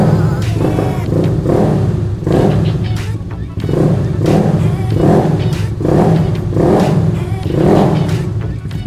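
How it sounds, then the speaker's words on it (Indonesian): A Beat motorcycle with a modified exhaust is revved loudly over and over in repeated bursts, each rise in roar followed by a brief dip back to idle. "Jadi dia kalau idle lembut, tapi kalau digas ya sangat berisik."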